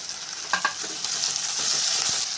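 Onions and cashew nuts sautéing in a pan for sambar rice, a bright steady sizzle broken by a few quick stirring scrapes and clinks.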